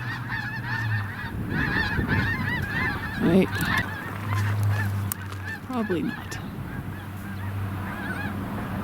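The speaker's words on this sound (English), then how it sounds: "See all the geese?" A flock of geese honking repeatedly nearby along the South Platte River near Julesburg in February, overlapping calls over a low engine hum, with a brief bit of talk.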